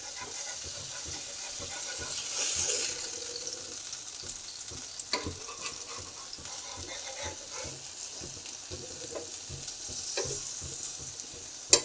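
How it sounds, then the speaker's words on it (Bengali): Small fish paturi parcels fry in a pan with a steady, close sizzle and hiss, broken by scraping stirs and flips and a sharp knock near the end; no one speaks. "মাছটা একটা পিঠ ভাজা হয়ে গেছে আমার, উল্টিয়ে দেবো আর একটা পিঠ ভাজবো।"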